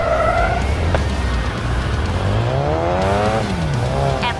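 Car drifting in the Racing Master mobile racing game, with a steady loud engine roar and long rising and falling tire squeals through the slide, no voices.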